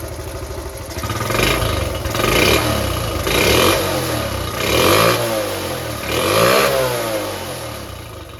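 A restored Honda Cub C70 motorcycle engine revving repeatedly, loud and close, rising and falling in about five rhythmic pulses over a steady idle clatter.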